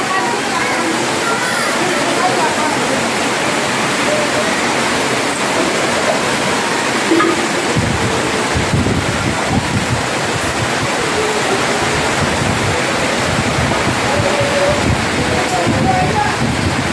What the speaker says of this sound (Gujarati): ઘડીક વારમાં કુંડલામાં કેટલો બધો વરસાદ આવી ગયો જો